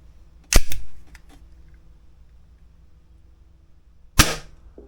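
A Glock 45 airsoft gas blowback pistol fires two loud, sharp shots with the muzzle right next to the microphone, one near the start and one near the end, separated by quiet.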